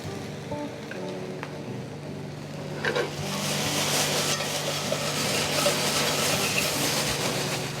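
Spaetzle browns in a pan with a hiss that starts quiet and turns to steady, loud sizzling crackle partway through, with no talking over it.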